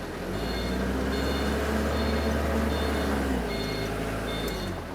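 An old Japanese Toyota 6FD25 2.5-ton diesel forklift with a manual transmission drives in first gear. Its engine drones steadily and loudly up close, with a repeating high reversing-type beep pulsing over it.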